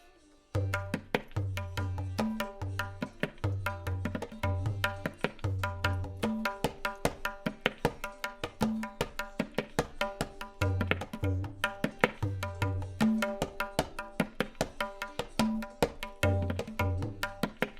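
Tabla played in a triplet feel with theme-and-variation phrasing, a dense run of crisp strokes and deep resonant bass hits in a steady lilting rhythm, close and alone for the full stretch.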